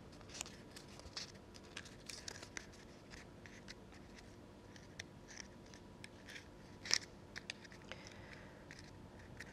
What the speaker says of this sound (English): you might need a little bit more gumption in your scissors there to get through two layers of card